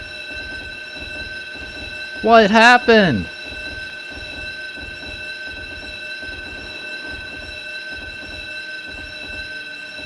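A train in the Nintendo 64 driving game Densha de Go! 64 makes an emergency stop before a truck stalled on a railway crossing. Steady rolling rail noise with rhythmic wheel clacks runs throughout, broken by a brief, loud squealing burst. A voice speaks briefly.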